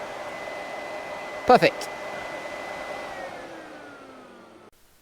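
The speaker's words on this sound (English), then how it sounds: "the 2 wires in the fan switch, that should start up" The electric cooling fan of a 20-valve turbo VW Caddy whirs at a steady, loud pitch after its switch wires are bridged, then fades as it winds down. A voice speaks briefly over it.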